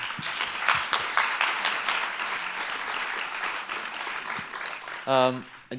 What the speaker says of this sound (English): can we just round of applause?